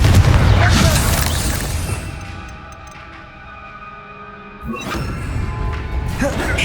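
A Confringo blasting curse bursts in Hogwarts Legacy with a loud, low boom that fades into a hollow lull, then a second rumbling surge swells up a few seconds later.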